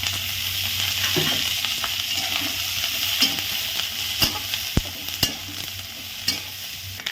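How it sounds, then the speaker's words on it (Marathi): Green chillies roast in hot oil in a pan, a steady broadband sizzle with stirring scrapes and a few sharp clicks of a utensil against the pan, close and continuous with no talking. "आता आपण तेल टाकणार आहे भाजून घ्या मिरच्या"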